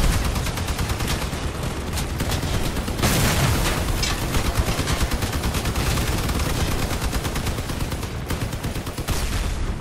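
Enemy vehicles in Crossout pour out sustained machine-gun fire, a loud dense rattle of rapid shots lasting throughout, punctuated by a heavier burst near the three-second mark.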